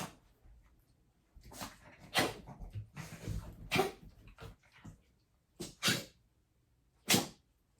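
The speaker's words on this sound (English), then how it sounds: "I hope you can't hear my dogs are playing right now" Dogs snuffling, sneezing and scuffling at play, with sharp bursts of noise at irregular intervals, close by.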